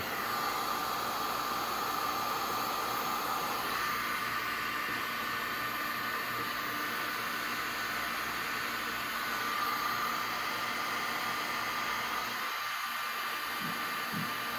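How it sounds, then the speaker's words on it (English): A heat gun warms the plastic body of a rolled 125cc mini jeep with a constant airy hiss and hum that holds steady close by and only dips briefly near the end. "And you'll notice the heat gun does a really good job."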